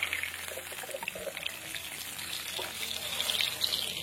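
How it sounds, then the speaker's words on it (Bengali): Papaya pieces fry in oil in a pan, a faint continuous hiss and sizzle running quietly throughout, with no talk. "এই যে পেঁপেগুলোকে ভালো করে কিন্তু এরকম ভেজে নিতে হবে"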